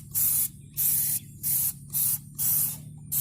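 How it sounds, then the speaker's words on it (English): Five bursts of spray from a trigger bottle of Dawn Powerwash aimed at the underside of a 2019 Polaris Sportsman 450 ATV, each hiss about half a second long with short gaps between them and a low background hum underneath. "I'm gonna go ahead and just spray a lot of the stuff down"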